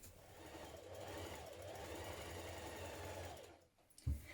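Sewing machine stitching the shoulder seam of a cocoon dress, a steady close motor hum with rapid needle chatter that stops near the end, followed by a soft knock.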